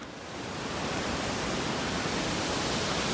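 A river rushes steadily on a mountain hiking trail, a broad, dense wash of flowing water that swells slightly in the first second and then holds loud and constant, with no voices.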